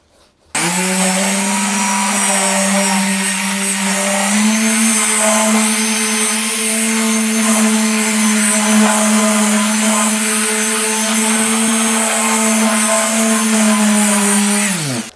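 A car polishing machine with a foam pad works the paint of a supercar to remove a scratch, a steady loud whirring drone that starts abruptly and runs evenly without a break.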